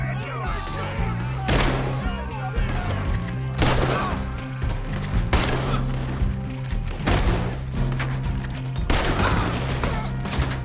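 Repeated gunfire from a Red Dead Redemption 2 shootout, with dense bursts of shots and crashes over a steady low musical drone, sustained and loud across the whole stretch alongside in-game voices.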